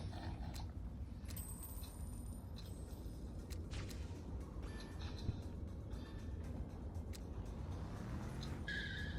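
A faint, distant vehicle engine in the game Roblox drones on while doing a wheelie, with scattered clicks and brief high mechanical squeals over it.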